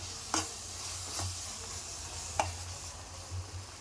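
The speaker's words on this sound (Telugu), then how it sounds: "కొంచెం కారపొడి ఉడికే వరకు కలుపుకోవాలండి కొంచెం ఒక రెండు నిమిషాలు కలుపుకోవాలి" Chili powder is stirred into a cauliflower egg curry in a pan. There is a soft, continuous sizzle, a low hum, and a few sharp scrapes and taps from the spoon.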